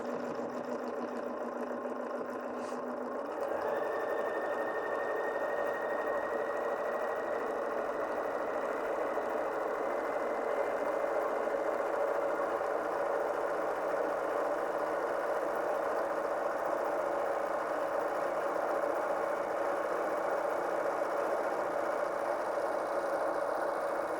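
Bernina 770 QE Plus sewing machine stitching a stippling pattern, a steady continuous mechanical whir running close and alone after a brief start, with a faint high tone riding over the hum.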